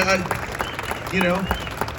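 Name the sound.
crowd applauding at car show unveil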